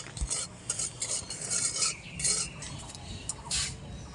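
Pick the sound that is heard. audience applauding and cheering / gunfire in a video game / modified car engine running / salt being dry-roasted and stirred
salt being dry-roasted and stirred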